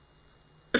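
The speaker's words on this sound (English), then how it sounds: "turn your head and cough" A single short cough bursts out at the very end of an otherwise quiet moment, from a character in a Halo 3 machinima medical exam scene.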